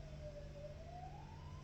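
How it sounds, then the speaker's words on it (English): A faint emergency vehicle siren, from an ambulance or police car, wails with a slowly rising and falling tone over a steady low hum, distant and quiet. "Is it an ambulance or is it a police car?"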